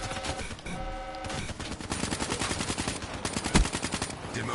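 Rapid bursts of KN-44 assault rifle fire in Call of Duty, loud and close, with dense repeated shots running through most of the stretch and a sharp louder crack near the end.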